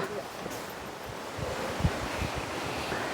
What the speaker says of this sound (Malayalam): വ്യൂ പോയിന്റോ വാട്ടർഫോൾ എന്തോ ഉണ്ടെന്ന് തോന്നുന്നു അവിടെ ഒരു ശബ്ദം ഒച്ച കേൾക്കുന്നു